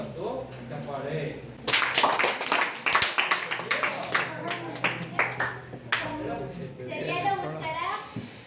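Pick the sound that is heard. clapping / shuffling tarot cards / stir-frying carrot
clapping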